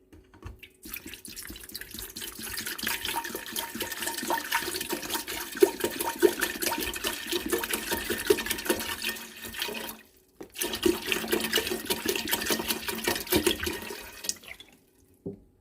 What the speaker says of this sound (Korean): 자, 물 600리터를 붓습니다.